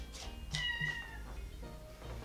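A house cat meows twice in quick succession, fairly close and clear, with a faint third call trailing off, against a quiet indoor background.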